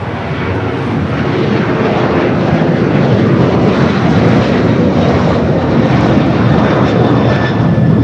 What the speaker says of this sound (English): Converted A330-300 coming up from Mexico City, flight 6850. About to touch down there on the